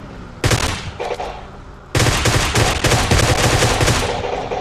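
Dense bursts of rapid gunfire in the video game PUBG, loud and close, come in two long volleys of many quick shots with a brief pause between them and no talking.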